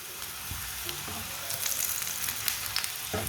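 An aloo paratha cooks on a hot pan with a continuous close sizzle and crackle that swells in places, with occasional soft scrapes and no voices.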